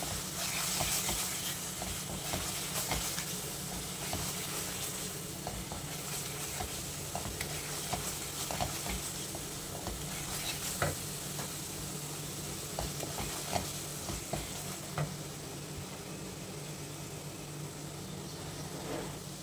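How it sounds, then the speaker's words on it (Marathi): Spice masala with salt stirred and fried in a pan for misal, giving a steady close hiss and sizzle with occasional light scrapes of the spoon, no talking. "आता हे मसाले छान मिक्स करून घेऊया."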